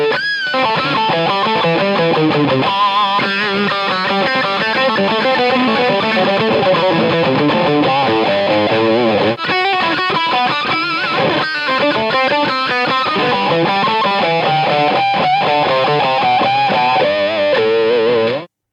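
A heavily distorted, high-gain electric guitar, amp pushed into harmonic distortion and brightened by an EQ pedal, plays a fast melodic line with squealing harmonics, loud and sustained, with a brief break midway before cutting off.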